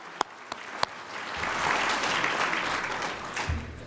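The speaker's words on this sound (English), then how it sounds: "Give yourselves a round of applause for coming here tonight." A few single claps start things off, then a gala crowd breaks into sustained applause that holds steady and begins to taper near the end.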